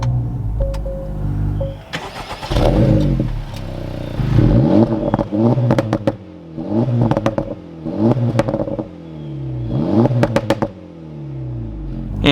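A 2024 Acura Integra Type S fires up with a starter whir and catch, then gives a series of sharp revs that rise and fall, loud and close, with short pauses between each.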